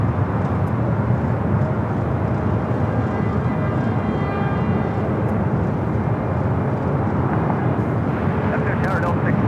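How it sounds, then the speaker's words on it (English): A Delta Airbus A321neo arriving from Detroit at Los Angeles airport rumbles in a constant loud jet roar, with voices talking over it. "Is the A321 in Neo with Delta, coming in from Detroit,"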